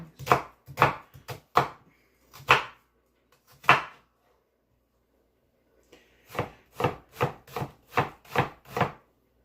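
Juicy onions being chopped with a knife on a board, close and crisp: a quick burst of chops, a pause of near silence, then a steady run of about eight evenly spaced cuts.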